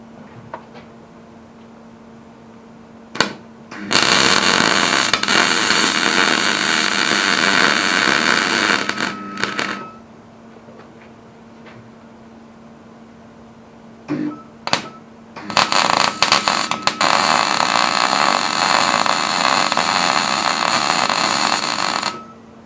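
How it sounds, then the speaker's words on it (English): Metal being welded while building a car rotisserie for a Holden Torana UC: two long bursts of steady, loud crackling buzz with short pops and pauses between them, no talk. "I'll go around now and weld it all up."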